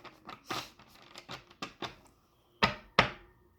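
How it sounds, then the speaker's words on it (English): A deck of tarot cards is shuffled by hand, giving a run of soft papery riffles and taps at an uneven rhythm, ending in two sharper snaps, quiet and close. "We're going to give them one more shuffle"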